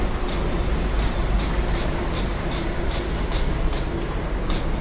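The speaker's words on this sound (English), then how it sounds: "Delhi Metro going on again" A Delhi Metro train runs along an elevated line with a loud, steady rumble and a regular clickety-clack of wheels over rail joints throughout.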